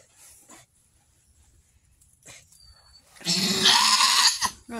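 A doe goat in labor lets out a loud, strained bleat near the end after a stretch of quiet, with faint rustling before it.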